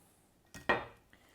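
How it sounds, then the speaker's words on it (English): Two quick, close scraping clicks of a blade or scissors cutting into a hardened 1990 MRE cheese package, brief and fairly quiet in an otherwise still room. "So let's cut this package down long ways"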